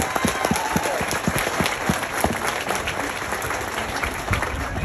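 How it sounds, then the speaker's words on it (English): A crowd at a county fair claps steadily, a dense wash of applause from many hands throughout. "Give these three a nice big round of applause."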